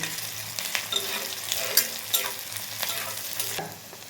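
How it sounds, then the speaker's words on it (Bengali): Chopped onions fry in a pan and are stirred until browned, giving a close, steady sizzle broken by repeated scraping strokes of a spatula. "লাল হওয়া পর্যন্ত নাড়তে হবে"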